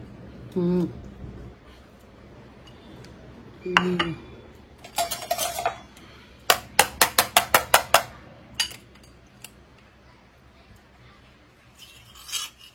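A metal plate covers a pot of Bangalore-style Meghana biryani, which is flipped over to transfer it, producing scraping, clanking metal contacts, a quick run of sharp taps and a few softer knocks, with brief talk.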